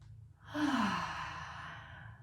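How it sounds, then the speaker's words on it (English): A single deep breath taken during a gentle beginner yoga flow, a long, soft airy exhale swelling and slowly fading, close and alone over a quiet background hum. "Big, full, deep breath."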